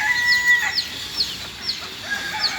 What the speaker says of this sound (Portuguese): Quantas galinhas, gente.